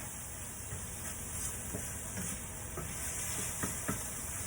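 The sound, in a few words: butter bean vegetable mix sizzling while cooking in pan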